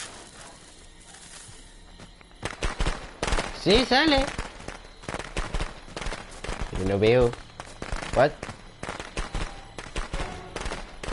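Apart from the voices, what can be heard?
fireworks animation in a video game (Friday the 13th)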